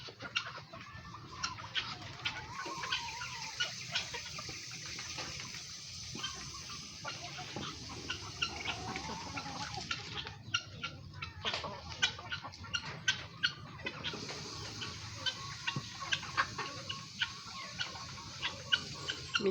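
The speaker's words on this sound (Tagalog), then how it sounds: "Mix na ito, may native na manok, mga pato, pabo, kalapati." Mixed backyard poultry of native chickens, ducks, turkeys and pigeons at feeding time, with steady clucking and calls throughout, rooster-like cries and scattered pecking ticks, moderately close and continuous without talk.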